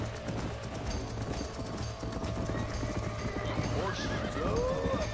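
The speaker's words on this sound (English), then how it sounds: "Horse." Horse hooves clip-clop steadily in Red Dead Redemption, with a couple of rising whinnies near the end over a busy outdoor game soundscape.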